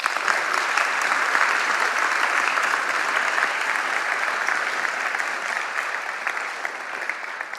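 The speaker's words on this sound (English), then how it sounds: "can we start with everyone giving yourselves a huge round of applause for everything you have achieved" A conference audience breaks into loud, sustained applause, a dense wash of clapping that holds steady throughout and eases slightly toward the end.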